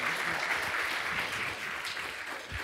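An audience at a Korean business lecture breaks into steady applause, a continuous crowd of clapping hands heard throughout without interruption.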